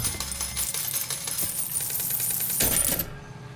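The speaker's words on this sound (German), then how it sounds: "Münze spuckt er trotzdem aus." A coin clatters out of an empty vending machine in BioShock Infinite, a bright, close metallic jingle of bouncing and rattling that settles within a few seconds, with no talking over it.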